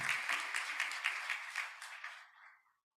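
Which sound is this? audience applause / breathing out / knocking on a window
audience applause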